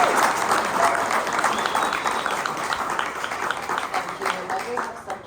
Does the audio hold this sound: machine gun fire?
no